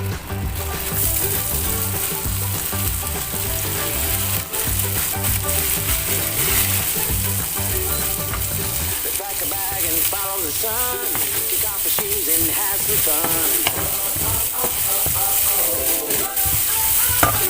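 Chopped onion hits a hot wok with a loud, steady sizzle that carries throughout, and about halfway through a clatter of stirring and scraping joins in and keeps going alongside it.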